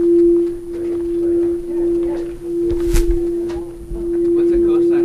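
A high-pitched mosquito tone plays steadily from a phone for the whole stretch, a thin constant whine, with people's voices and room noise underneath.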